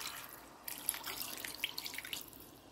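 Water pours into a cooking pot for braised sauerkraut with pork hock and ribs, mixed with brine squeezed from the cabbage; a steady close splashing trickle with small drips, starting after a brief quiet moment.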